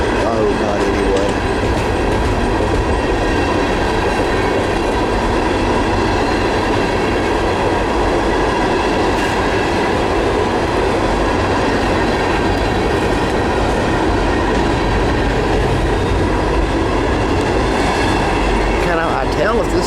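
A Norfolk Southern 95Z Herzog ballast freight train with SD70ACe and AC44 locomotives rolls past close by, loud continuous rumble and rhythmic clickety-clack of wagons with occasional wheel squeal, steady throughout.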